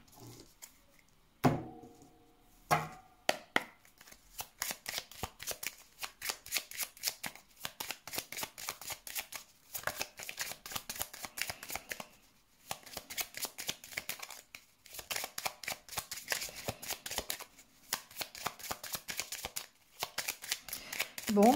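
Tarot cards being shuffled by hand during a reading, a long run of dense, crisp riffling and slapping that goes on almost without pause, close up, with a few brief voice sounds near the start.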